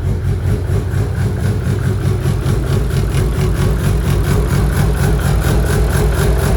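A Nissan Skyline R33 drift car engine idles loudly and steadily up close, with a rough, pulsing rhythm and no talking.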